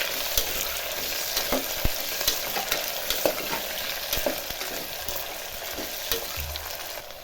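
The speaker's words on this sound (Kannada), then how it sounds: "ಕ್ಯಾರೆಟು ಆಲೂಗೆಡ್ಡೆ ಇದನ್ನ ಸ್ವಲ್ಪ ಚೆನ್ನಾಗಿ ತರಕಾರಿಗಳನ್ನು ಮೊದಲು ಫ್ರೈ ಮಾಡ್ಕೋಬೇಕು" Carrots and potatoes frying together with beans for vegetable pulao, a steady close sizzle broken by frequent stirring scrapes and taps of a spatula on the pan.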